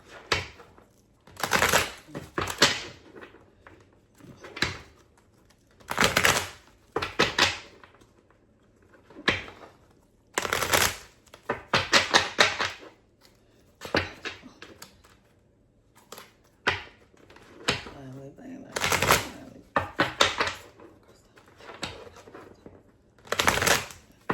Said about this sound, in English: I'm going to clear the cards first, and then I'll hit a shuffle